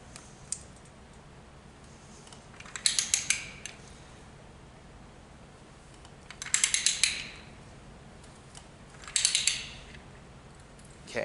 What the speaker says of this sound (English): I'm going to apply pressure here, and I'm going to ratchet it.